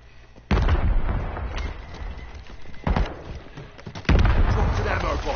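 Sniper gunfire in Call of Duty, three sharp, loud reports spaced a couple of seconds apart, each followed by a rumbling tail, over a low hum of game ambience.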